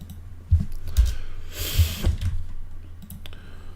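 A computer mouse button clicks several times in a quiet room, with short sharp clicks spaced irregularly and heard up close, alone.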